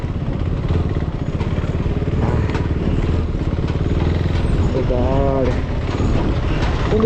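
KTM Duke 390 motorcycle riding off-road toward Sarchu, a loud, continuous engine drone with rough, rattling texture throughout, and a voice talking over it.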